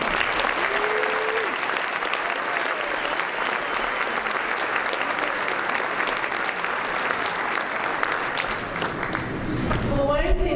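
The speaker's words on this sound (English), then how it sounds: "one last hearty round of applause for this great group of students this year" An audience at a scholarship awards ceremony gives steady, sustained applause, with dense clapping filling the room for several seconds.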